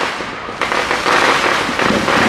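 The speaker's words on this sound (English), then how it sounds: "The fireworks is jumping off just about everywhere." Fireworks going off all over Detroit on the Fourth of July: a dense, loud wash of crackling bursts and pops that thickens with sharp new volleys, continuous for the whole stretch.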